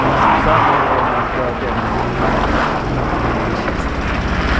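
A roofless BMW with a broken cylinder runs rough on five cylinders, its engine a loud, continuous, uneven rumble mixed with heavy wind buffeting, close up, with no clear break throughout.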